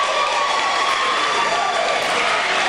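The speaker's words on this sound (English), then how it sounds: "The crowd goes wild." Crowd cheering and shouting loudly at a school girls' basketball game, a steady roar of voices just after a 36-33 win, with whistles and shrieks over the din.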